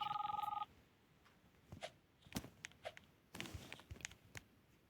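A phone rings briefly at the start in a rapid electronic trill in the Roblox game Brookhaven, then stops, followed by scattered thumps and footsteps.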